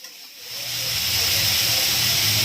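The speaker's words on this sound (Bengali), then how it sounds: "আমি পুজো দিয়ে এসে এখন রান্না করব হচ্ছে ফুলকপি ভাজা করছি" Cauliflower frying in a pan, a loud steady sizzle and hiss that swells in after a quiet start and holds close and even.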